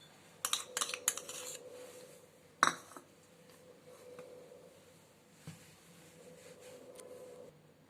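Pizza filling with masala and grated processed cheese is stirred in a bowl, giving a few clinking taps of spoon against the bowl near the start, then quieter scraping with one sharper knock.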